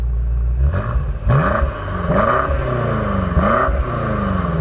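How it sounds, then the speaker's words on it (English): A deep, throaty twin-turbo V8 exhaust on a 2021 BMW M5 Competition revs up several times in quick succession, loud and close, each blip rising then falling away. "If you listen to this exhaust, it's absolutely incredible."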